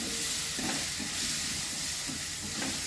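Pumpkin pieces frying in a pan for a Bengali fish curry, giving a steady broadband sizzle with occasional soft stirring knocks throughout.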